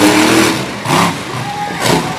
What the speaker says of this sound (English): Not unbelievable considering how the engine's running right now.